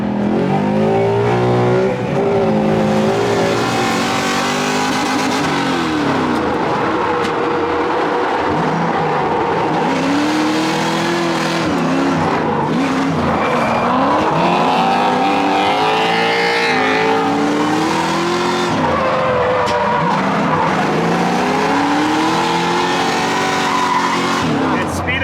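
Drift car accelerating hard around the Affinity Circuit during a drift event, engine revving loudly with rising and falling pitch sweeps and occasional tyre noise, someone talking over it throughout.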